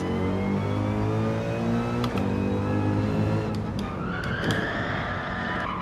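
In a racing video game, a car's tires skid under hard braking without ABS, producing a rising squeal over a steady, droning engine tone that shifts as the car slows.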